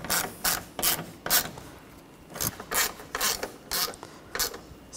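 A hand ratchet clicks in short bursts while tightening transmission mount bolts on a 2013-2019 Ford Escape 2.0L four-cylinder, about a dozen rapid close rasping strokes separated by brief pauses, no talk.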